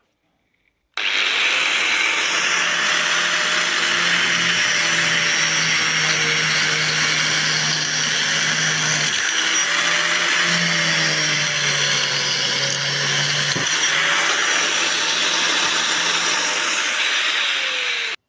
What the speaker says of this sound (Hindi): यहाँ पे किसी ईंट के अंदर जो है होल करके देखते हैं